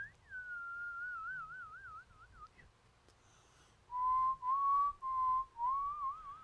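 A whistled melody with a warbling vibrato tone, one sustained wavering phrase, a short pause, then several brighter, louder sustained notes; clear and close, with no talking.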